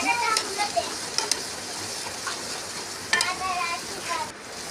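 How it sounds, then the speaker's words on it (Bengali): Spice masala for a potato and pointed gourd curry fries in a pan with a little water, giving a continuous sizzle broken by a few spatula scrapes and stirring clinks. Quiet talk comes through faintly. "একটু হালকা জল দিলাম, মশলাটা কষানো হচ্ছে।"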